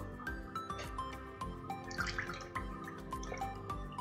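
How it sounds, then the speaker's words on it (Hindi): Water poured from a cup into a cooking pot while making khandviyan shorba, a steady liquid splash with dripping and a few clanks, fairly close and with no talk. "एक कप पानी और डाल देंगे।"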